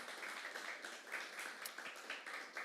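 A church congregation applauds, a faint, distant wash of steady clapping that goes on unbroken from start to finish, with no clear voices above it.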